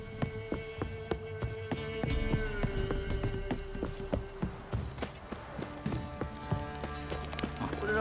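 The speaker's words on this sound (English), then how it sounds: "Time to water the horses." Horse hooves clip-clop in a steady, close rhythm in The Witcher 3, a loud run of hoofbeats with faint background ambience.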